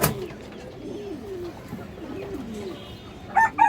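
Indian high flyer pigeons coo in a low, wavering murmur, with a few brighter, sharper bird calls bursting out close at the end.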